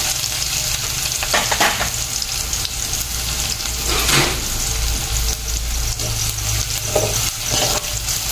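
Finely chopped onion with two dried red chillies and minced garlic sizzles loudly in a hot pan, with continuous frying hiss and repeated stirring scrapes up close, no voices.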